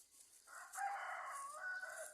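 A single drawn-out rooster crow, fairly faint and distant, rising and holding before trailing off.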